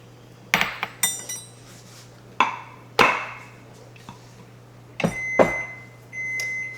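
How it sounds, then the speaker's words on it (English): An oven signals that it has finished preheating to 350 degrees in a home kitchen during cake baking. Sharp clinks of glass and utensils come first, then a thin, sustained electronic beep tone rings out near the end. "my oven just finished preheating to 350"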